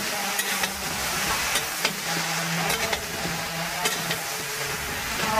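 Vegetables for Navaratna prasad are stirred in a hot pan, and a spoon clicks and scrapes against the metal at irregular intervals over a continuous sizzle.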